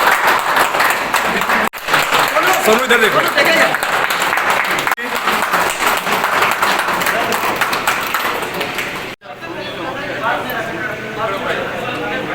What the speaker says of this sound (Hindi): तालियों से स्वागत करें हमारे आदरणीय